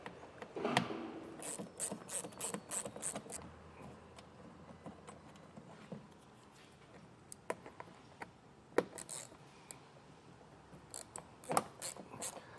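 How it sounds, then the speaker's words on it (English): Faint mechanical ratcheting and clicking as two T15 Torx screws are backed out of trim while fitting a Curt trailer hitch receiver on a 2021 Cadillac XT6, in short irregular bursts with quiet gaps between them. "there are 2 T15 Torx screws. We're going to get those taken out."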